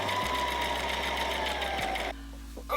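A sewing machine runs steadily, stitching a garment's side seam, a loud close mechanical whir that holds for about two seconds, then drops to a lower hum with faint handling sounds.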